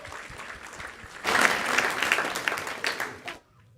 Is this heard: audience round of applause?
yes